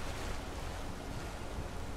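A river in the fantasy game Skyrim rushes steadily, a broad, constant wash of flowing water heard close and fairly loud.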